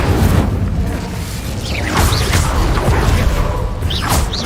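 Incendio fire spell blasts cast in Hogwarts Legacy, loud whooshing bursts with crackling booms under a dense, continuous roar of combat, several bursts in a few seconds.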